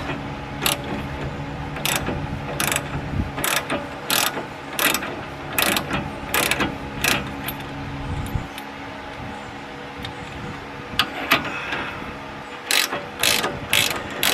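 Ratchet wrench turning a tie rod puller on a 1997-2002 Ford F-150 to pop out the tie rod, loud close clicking in steady repeated strokes over a continuous mechanical drone, no talking.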